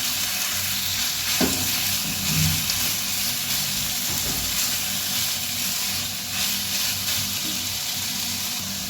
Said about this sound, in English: And then just fry them with these.